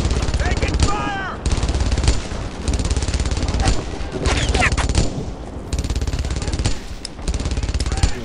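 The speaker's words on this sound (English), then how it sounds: "That fucking machine gun keeps killing me every fucking time now." Sustained machine gun fire in the World War II shooter Brothers in Arms: Earned in Blood, long loud rattling bursts broken by brief pauses, with shouted voices and battle noise in the mix.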